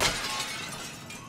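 A glass jar holding a brain shatters in Little Nightmares 2, a single loud crash at the start followed by a sustained, fading scatter of breaking glass, with no voices.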